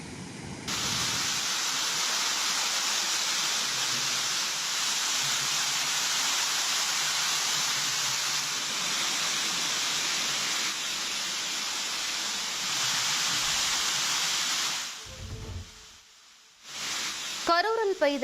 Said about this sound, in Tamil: கரூரில் பெய்த கனமழையால் குளித்தலை அடுத்த ஐயர்மலை உச்சியிலிருந்து படிக்கட்டுகள் வழியாக மழைநீர் அருவி போல் ஓடியது.